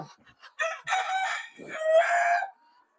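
Desi chickens on a farm raise a close, loud rooster crow amid short clucks, the call stretching out over about two seconds against otherwise quiet surroundings.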